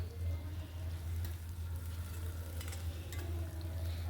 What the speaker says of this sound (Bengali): পেঁয়াজ কুচি দিয়ে এবার গোল্ডেন ব্রাউন করে ভেজে নেব